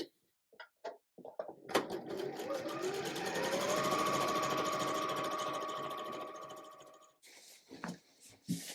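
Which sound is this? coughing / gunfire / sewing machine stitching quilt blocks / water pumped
sewing machine stitching quilt blocks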